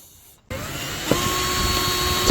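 A hole saw drilling into a wooden board starts abruptly with a loud, steady whining grind that holds near and constant for about two seconds.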